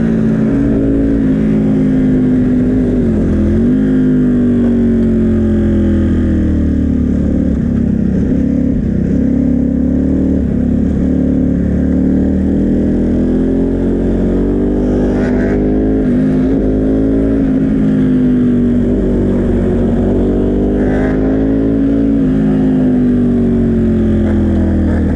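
A Ducati MotoGP motorcycle engine drones loud and close for a long stretch while the bike rides the track warming its tyres, its pitch rising and falling as the throttle opens and eases.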